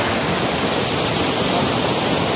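Roaring water at Rama Tirtha waterfall in Simlipal: a dense, steady rush of falling water, loud and close, filling the whole range without a break and with no voices over it.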